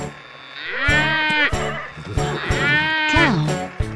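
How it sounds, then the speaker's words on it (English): A cartoon cow in a kids' animation about building a tractor gives two long, drawn-out moos with a wavering pitch, loud and close over a busy musical background. "That's right, it's a cow."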